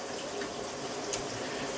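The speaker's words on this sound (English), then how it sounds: "So I'm going to get some hot water going" Hot water running steadily from a tap, a continuous rushing splash heard close and alone.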